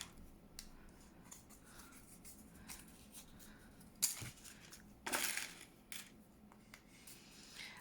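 Small metal paper clips are handled and set down on a crafting table, producing faint, sparse clicks and scrapes, with a couple of brief louder rustles, in quiet surroundings without talking.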